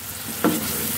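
Onion paste sizzles steadily in a hot pan, with one short soft thump and hiss as a spice mix is tipped in, then the frying continues unbroken.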